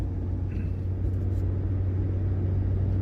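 A VW Golf Mk2 GTi 16v with Bosch K-Jetronic injection cruises along a road, a steady low in-cabin engine drone and rumble throughout.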